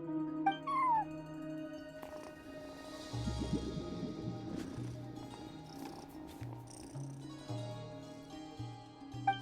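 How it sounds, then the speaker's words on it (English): A cat in the video game Genshin Impact, sitting at a front desk, gives a couple of short meows and a purring, mewing sound over soft background game music. "No one except for a cat watching over the front desk."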